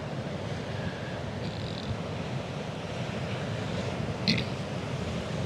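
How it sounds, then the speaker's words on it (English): Ocean surf and wind at a public shoreline during an outdoor water purification ceremony, a steady low broadband wash with gusty rumble running throughout, no clear individual wave breaks. "you might even hear the ocean and the wind"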